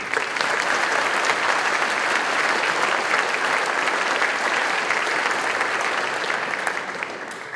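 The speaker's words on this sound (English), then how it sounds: "I just want to give another round of applause" A crowd at a high school scholars awards ceremony claps in steady, dense applause that holds for several seconds, then begins to taper near the end.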